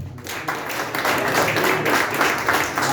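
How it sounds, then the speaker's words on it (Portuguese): Church congregation applauding to welcome the pastors at a missionary-week service, a dense, steady wash of many hands clapping throughout, fairly loud and close, with a bit of crowd noise underneath. "Vamos receber os pastores aplaudindo Jesus bem forte."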